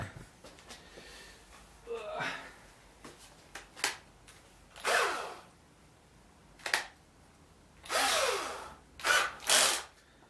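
A power drill bores a hole in a home-built Pac-Man arcade cabinet, starting with a small bit, in several loud short bursts separated by quieter handling sounds.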